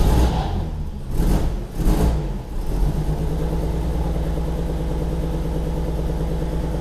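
A Chevy car engine, started with a bit of choke, cranks in a few uneven surges and then catches, settling into a steady, close, rumbling run.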